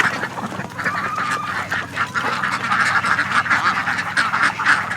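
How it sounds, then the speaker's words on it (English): A flock of farm ducks quacks continuously and loudly at close range, with overlapping calls filling the whole stretch and no talking. "Going over the ducks here."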